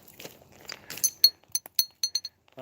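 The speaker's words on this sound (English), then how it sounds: "tap it again. You hear it? It's like it sounds like glass. That's quartzite." Quartzite rocks are tapped together at an old Native American settlement site, giving a series of sharp, bright glass-like clinks, about eight distinct taps in an irregular rhythm after some faint murmuring.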